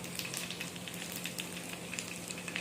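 Kondattam fries in hot oil, a soft, close crackling sizzle with quick popping bursts over a steady low hiss, with no voices.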